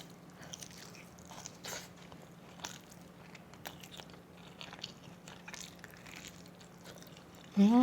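Quiet, close biting and chewing of tender braised pork ribs with kimchi, soft crunchy bites repeating irregularly with no talk, ending in a brief louder bump.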